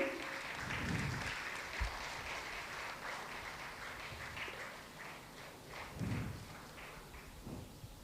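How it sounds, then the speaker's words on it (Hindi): At a university convocation ceremony, an audience keeps up faint, distant applause as guests walk onto the stage, a continuous hiss of clapping in a large hall with a few heavier thumps. "जब तक हमारे अतिथिगण स्टेज पर आ रहे हैं, तालियां चालू रखेंगे"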